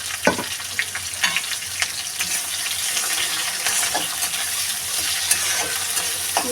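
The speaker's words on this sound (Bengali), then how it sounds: "পেঁয়াজ কাটা যে পেঁয়াজটা কেটে রেখে দিয়েছিলাম একটু মোটা মোটা করে সেই পেঁয়াজটা আমি পুরো দিয়ে দেবো" Thick-cut onions fry in a pan for chicken curry, a loud, continuous sizzle with repeated scraping stirs and light knocks of the utensil, close up and with no talk.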